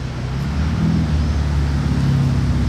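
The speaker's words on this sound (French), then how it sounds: "il y a une autre Ferrari cachée. Elle arrive d'une seconde à l'autre." A Ferrari driving up a street in Monaco, a steady loud engine rumble close by with broadband road noise, building slightly as the car approaches.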